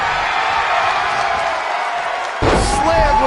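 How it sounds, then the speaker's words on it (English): A wrestler is body-slammed onto the ring mat during a WWF steel cage match, a single heavy thud breaking through the loud, steady crowd roar, which swells into cheering afterward. "Slammed with authority."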